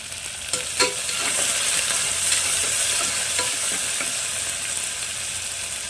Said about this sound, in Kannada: ಈರುಳ್ಳಿನ ಇವಾಗ ಹಾಕೊಳ್ತಾ ಇದ್ದೀನಿ ಸ್ವಲ್ಪ ಚೆನ್ನಾಗಿ ಫ್ರೈ ಮಾಡ್ಕೋಬೇಕಾಗತ್ತೆ